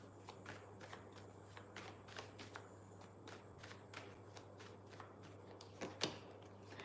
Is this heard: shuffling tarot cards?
yes